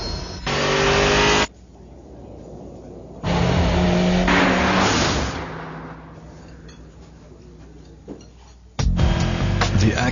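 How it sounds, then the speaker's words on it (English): A 210-horsepower Acura RSX Type S engine revs in three loud, abrupt bursts separated by quieter rumbling passages, like a fast-cut car commercial. "Acura RSX Type S, now with 210 horsepower. You'll know it when you hear it."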